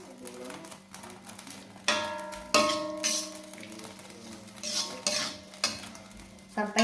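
Onion and spring onion stir-fry for corned beef fried rice, a soft sizzle under repeated scrapes and clacks of a spatula against the pan in uneven bursts, with a voice talking intermittently.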